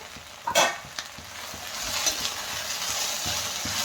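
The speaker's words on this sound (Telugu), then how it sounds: "అలా కలుపుతూనే ఉండాలా ఇంకా మళ్ళీ ఒకసారి కలుపుకోవాలా" Okra fry being stirred in a pan with turmeric and chili powder, a steady sizzle under occasional scraping and clinking strokes of the spoon, close and fairly loud, no talk.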